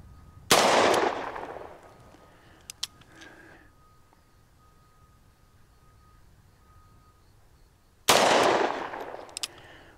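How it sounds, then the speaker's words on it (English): A Ruger Super Redhawk Alaskan revolver fires 200-grain 45 Colt rounds outdoors: two sharp, loud close reports several seconds apart, each trailing into a decaying echo, with faint clicks in between. "we're going to load it up with some 200 grain 45 Colts."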